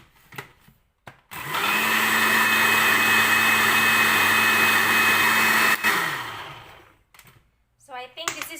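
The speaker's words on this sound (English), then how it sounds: "Then we have to grind it again." A kitchen grinder runs steadily for about five seconds, blending coconut and mint into chutney with a loud whirring motor hum, starting abruptly and winding down, with brief quiet and faint clatter around it.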